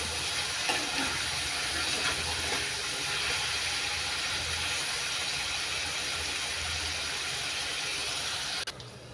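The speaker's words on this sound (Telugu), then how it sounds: "సిమ్లో పెట్టి వేయించుకోవాలి లేకపోతే మాడిపోతాయి" Paneer pieces fry on a low flame in a pan for a paneer cashew tomato curry, giving a steady, even hiss of sizzling oil that runs the whole time without pause.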